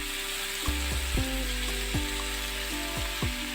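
Beans, radish and spinach fry in a pan for a vegetarian chorchori, giving a constant bright sizzle, with several low tonal swoops running underneath.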